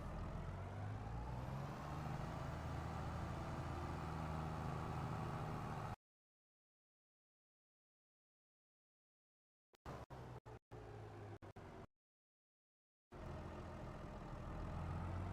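A tractor engine in Farming Simulator 22 hums steadily at a low idle-like drone for several seconds, cuts to silence, returns in brief choppy bursts, then resumes its continuous hum.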